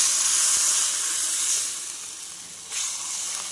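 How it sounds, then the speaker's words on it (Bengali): Water poured into a pan of hot fried spices erupts in a loud, bright sizzle and hiss that eases off, then briefly flares again near the end; no voices. "এবার জল দিয়ে দিচ্ছি।"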